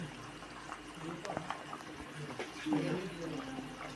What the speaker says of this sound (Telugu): ఇంకా బగారా చూడండి, కుతకుతా నుడుకుతా ఉంది